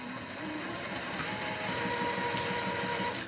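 A sewing machine stitching a Hawaiian quilt, a steady quick mechanical whir and rhythmic needle tapping, close and fairly quiet throughout with no talking.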